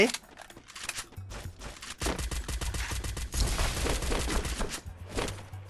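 Rapid bursts of gunfire in the video game Free Fire rattle almost continuously, with sharp repeated shots and a low rumble underneath, while a voice talks over the action.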